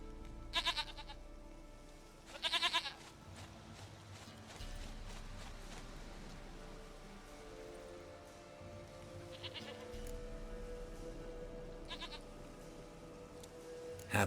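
A goat in The Witcher 3 video game gives several short, loud bleats, two early and two later, spaced apart over soft ambient game sounds.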